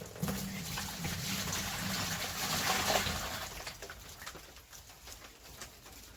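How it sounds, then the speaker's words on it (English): Homemade Walmart wine pours from a bucket spigot into a second bucket, a faint steady trickle with a low humming tone early on that fades as the flow continues. "now I'm pouring it into the second bucket"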